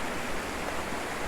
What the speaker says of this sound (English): the stream leading up to the actual fall itself